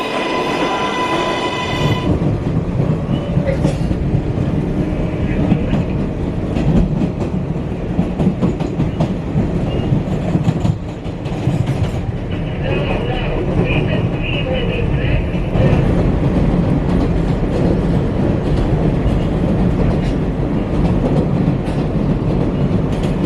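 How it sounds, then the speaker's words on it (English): A New York subway 7 Express train roars in close and loud, with rumbling wheels, clattering rails and brief squeals, while voices talk faintly beneath the din. "Just like that, 2 minutes later, my train is here."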